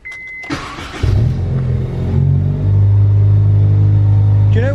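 A Honda Civic Type R fitted with a Skunk2 Megapower R exhaust starts up and settles into a loud, deep, close rumbling idle that swells briefly as revs rise, with a voice speaking at the very end.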